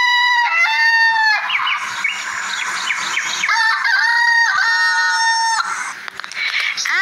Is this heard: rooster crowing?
yes